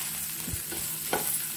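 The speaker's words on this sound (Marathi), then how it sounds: "तो मसाला पण थोडा मी परतून घेते" Masala with red chilli powder and Malvani spice sautés in oil for a cluster bean sabzi, a steady close hiss with two or three faint scrapes of a stirring spoon.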